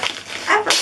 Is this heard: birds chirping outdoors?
no